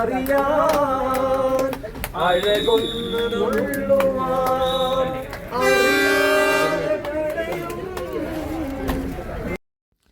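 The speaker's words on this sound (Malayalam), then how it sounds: "നീലഗിരി കുന്നുകളിലൂടെയുള്ള ഈ ട്രെയിൻ യാത്ര" The Nilgiri mountain railway train to Ooty rumbles along through the Nilgiri hills while its horn sounds in two long blasts, with a person talking over the noise.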